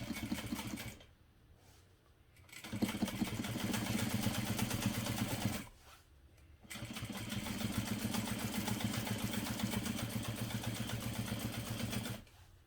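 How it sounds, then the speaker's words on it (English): A sewing machine runs in steady bursts along the side seam of a parachute knapsack, its fast even stitching whir stopping twice for short pauses before carrying on, with no talk over it. "I'm going to sew directly along that line."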